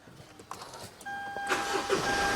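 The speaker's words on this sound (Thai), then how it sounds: "นี่เดี๋ยวผมสตาร์ทเครื่องยนต์ให้ชมเลย" A Mitsubishi Pajero Sport top-grade SUV engine starts up close, a brief cranking whir followed by a steady idle that grows louder and settles into a smooth hum.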